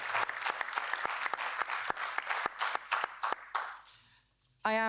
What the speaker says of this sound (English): I just want to give those guys a round of applause